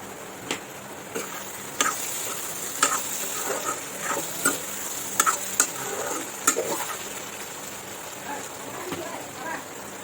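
Ginger and garlic fry with spices in a pan while a chicken dish cooks, making a quiet, continuous sizzle broken by irregular clicks and taps from stirring.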